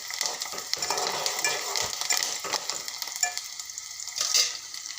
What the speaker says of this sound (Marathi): छान मस्त असा कलर येईपर्यंत छान त्याला असं परतून घेणार आहे